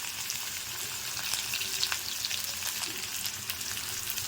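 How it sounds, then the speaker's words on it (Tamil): A steady, bright sizzle of onions sautéing in hot oil, continuous and close, with faint stirring underneath. "இந்த வெங்காயத்தை போட்டு வதக்கிடுங்க"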